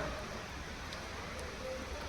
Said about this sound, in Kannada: ಮಳೆ ಬೀಳ್ತಾ ಇದೆ. ಮಳೆ ನೋಡಿ, ಹನಿ ಬೀಳ್ತಾ ಇದೆ.